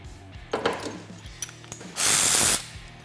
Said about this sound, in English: Go ahead and get your nut started. And we'll go ahead and tighten that up.